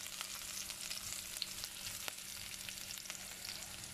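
Onion frying with mustard seed, jeera and bay leaf in oil, a steady soft sizzle with scattered tiny pops and crackles, close but quiet and unbroken throughout.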